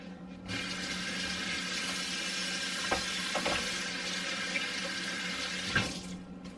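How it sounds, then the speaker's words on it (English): Tap water runs steadily into a kitchen sink while hands are washed clean of raw meat juices, a constant close rushing hiss with a few soft splashes and knocks, and no talking. "I keep having to wash my hands today because I'm touching all this meat."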